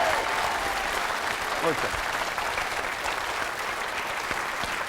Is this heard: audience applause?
yes